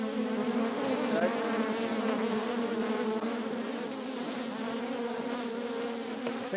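Angry honeybees from a tiny colony nesting in a bird box buzz continuously and loudly close by, a dense steady drone with no talking.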